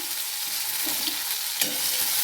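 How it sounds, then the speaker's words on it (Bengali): Tomato dropped into a kadai of already hot oil for a vegetarian chana curry without onion or garlic, crackling with a steady close sizzle while being stirred, with a brief louder burst as it hits the oil. "ওই ভাজা তেলে এবার টমেটোটা দিয়ে দিচ্ছি"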